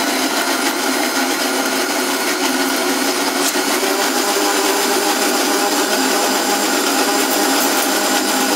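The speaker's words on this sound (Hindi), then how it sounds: "ये हम पीस लेते हैं मिक्सर ग्राइंडर में।" A kitchen mixer grinder grinds ingredients with a loud, continuous high-pitched whirring motor drone that stays steady throughout, close and without talk.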